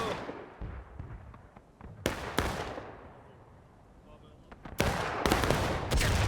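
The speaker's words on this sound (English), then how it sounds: "So, CSA artillery." Confederate (CSA) artillery fires in a 200-player Civil War-style battle video game: several loud, sharp booms in uneven clusters, each with a short decaying rumble, over a low background din.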